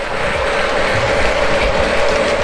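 Close, steady mechanical whirring and clicking of a model train rolling along a layout, an unbroken gear-like hum over a short stretch, with no talking.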